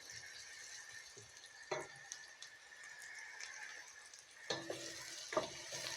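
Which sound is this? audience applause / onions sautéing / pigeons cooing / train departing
onions sautéing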